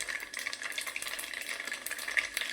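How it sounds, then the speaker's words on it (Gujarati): Mustard seeds crackle and pop in hot oil inside a pressure cooker, a steady, fairly quiet spatter of small snaps with no voices. "જો આપણે રહી ફૂટે છે,"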